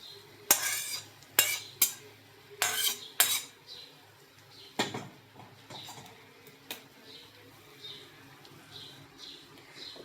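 Roasted peanuts from a Solapuri peanut chutney are scraped and poured into a bowl with sharp metallic clinks and spoon scrapes, then lighter scattered ticks, close and unaccompanied by speech.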